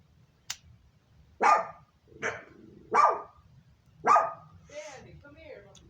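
An American Bulldog barks loudly and nearby, five deep single barks spaced about a second apart, followed by a softer whining yelp, with a quiet background and a click at the start.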